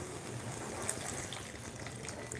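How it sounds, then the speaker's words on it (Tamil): Water is poured into a pan of banana flower stir-fry, a steady, close, hissing gush that runs without a break and with no talking over it. "கொஞ்சமாக தண்ணி ஊற்றி நம்ம இப்போ மூடி வச்சிடலாம்."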